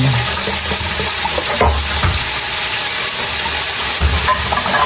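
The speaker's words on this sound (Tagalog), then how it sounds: "At yun na po itong haluin." Pork sinigang with taro being stirred in a pot, a close, continuous wet churning and sloshing with a few soft knocks against the pot, heard alone without speech.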